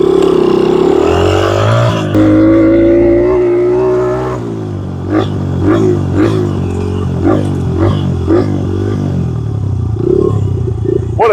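Small motorbike engine running close by, a buzzy idle that rises and falls through several throttle blips, with clattery mechanical noise and bursts of popping exhaust.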